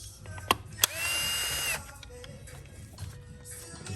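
Ratchet wrench loosening a bolt on an Audi A3 2.0T TFSI engine during water pump removal, a couple of sharp clicks followed by a short burst of rapid ratcheting, then quiet workshop background.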